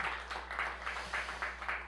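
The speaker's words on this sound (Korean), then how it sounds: "다시 한 번만 박수를 한번" An audience at a Korean church pastors' seminar in New York claps together in a rhythmic, evenly pulsing round of applause, moderately distant under a low steady hum.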